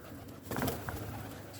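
A soft, brief coo from a pigeon or dove, faint against a hazy background.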